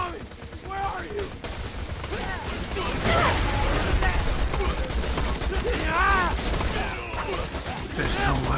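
Gunfire in the Borderlands 2 video game rattles on in steady, fairly loud bursts throughout, mixed with game effects while people talk over it.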